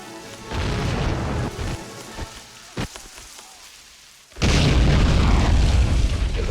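Land Mattress rocket barrage in the Army Men of War game: a rumbling run of explosions, a brief quieter gap with a couple of sharp booms, then a loud sustained roar of blasts.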